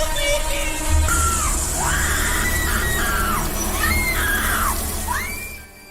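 A woman screams in a horror film, with long wailing cries that rise and fall over a loud, dense background, continuing steadily before tapering off at the end.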